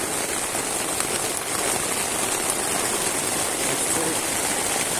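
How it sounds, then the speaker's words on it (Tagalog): Heavy rain pours steadily in the mountains during an overnight camping trip, a constant dense hiss of water hitting surfaces that stays loud and even throughout, with no clear voices. "kalakas ang ulan dito sa bundok"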